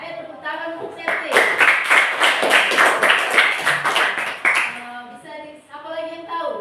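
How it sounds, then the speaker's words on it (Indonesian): Classroom applause for a student named Septi, a burst of rhythmic clapping from many children lasting several seconds, with a teacher's voice speaking before and after. "Ayo tepuk tangan untuk Septi."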